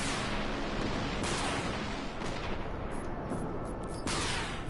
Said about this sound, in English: Alright, firing my rockets up on him.